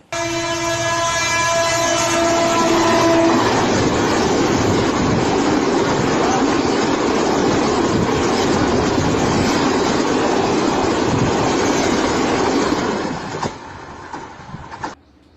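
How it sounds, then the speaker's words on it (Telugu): A train roars past at close range over a young man lying on the tracks, its horn blaring in long sustained blasts at the start, then steady loud rumbling and rattling before it fades near the end. "రీల్ కోసం ఓ యువకుడు ట్రైన్ వస్తుండగా రైల్వే ట్రాక్పై పడుకున్నాడు ఇంతలో అతడి పైనుంచి రైలు వెళ్ళింది"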